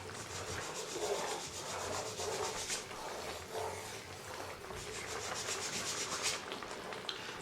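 A spoon keeps stirring the sauce for smothered pork chops in a pan, giving a steady, soft scraping and swishing rub that runs throughout without pause.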